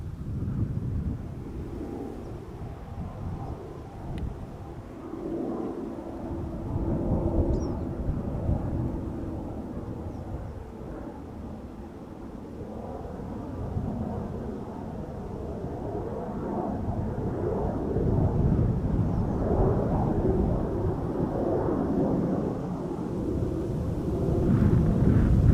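A Boeing 737 jet passes overhead at Schiphol Airport, outbound to Bergen, a deep continuous engine roar that swells slowly and grows louder toward the end, with wind rumble and no talk.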